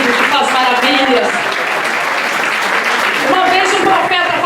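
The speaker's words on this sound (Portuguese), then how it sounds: "Aplauda Jesus Cristo nessa noite, porque Ele está nesse lugar." Applause from a church congregation during an evening sermon on Ezekiel 37, a broad steady patter of clapping that carries on throughout, with a voice speaking over it.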